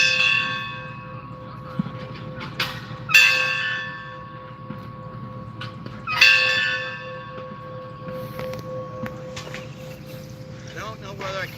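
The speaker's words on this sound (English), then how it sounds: "he's ringing the bell." A bell rings out in several clear, resonant strikes a few seconds apart, lingering over a low background rumble.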